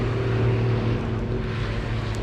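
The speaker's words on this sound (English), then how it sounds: "I think it's a tractor, folks." A Case International tractor engine drones steadily as it passes along a rural road by a Scottish wildlife reserve, a low continuous hum with no voices.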